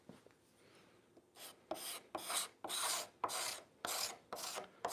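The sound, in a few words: card scraper scraping figured wood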